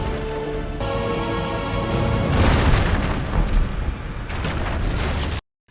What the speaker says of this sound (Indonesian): kapal miliknya meledak dan hancur seketika